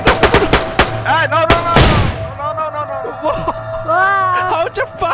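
Rapid bursts of gunfire crack sharply in the opening seconds of a DayZ firefight in the town of Elektro, a dense volley that gives way to excited shouting voices over a low steady hum.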